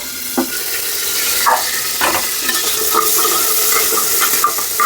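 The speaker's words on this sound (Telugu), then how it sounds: "కొంచెం లైట్గా వేగితే చాలు ఆనియన్" Onions fry lightly in a pan for mutton curry in a cloud kitchen, giving a steady close sizzle broken by several stirring scrapes and clinks of a utensil against the pan.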